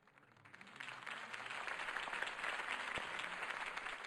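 Crowd applause in the video game Batman: The Telltale Series, swelling up and holding steady, a dense wash of many hands clapping at moderate volume with no voices over it.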